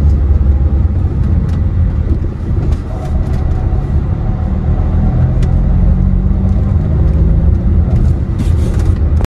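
Car interior while driving through road traffic on a one-way street, a loud continuous engine and road rumble with occasional clicks and passing vehicle swells, no speech.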